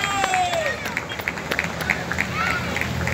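A church congregation claps in a quick, steady rhythm with a faint murmur of voices behind it. The clapping stays moderately loud and even throughout.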